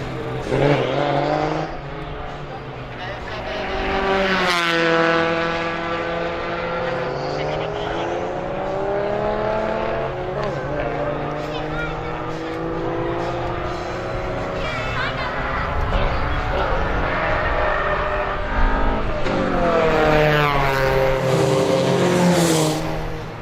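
Race cars lap a circuit as a Mazda rejoins the race, engines rising and falling in pitch through gear changes and loud pass-bys, with a commentator talking throughout.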